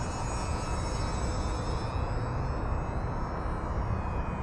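An electric RC airplane, a UMX Turbo Timber, flies overhead with a steady high-pitched motor and propeller whine over a wash of wind noise, moderately loud and continuous.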